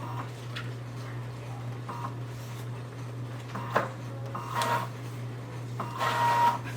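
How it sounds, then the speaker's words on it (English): A Siser Juliet cutting machine slices vinyl, its carriage whirring in short motor runs with clicks over a steady low electrical hum, quiet and close. "So I'm going to go ahead and basically put this in the cutting machine first."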